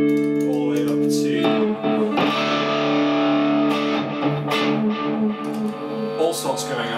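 An electric guitar plays through a pedalboard with a programmable bypass looper, loud, sustained chords and notes thick with distortion and effects, ringing continuously close up.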